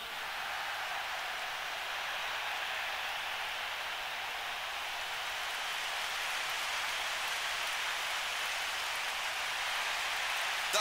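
Steady rain in a PES football video game, a continuous even hiss of falling drops filling the whole stretch at a constant moderate level with no voices or other sounds.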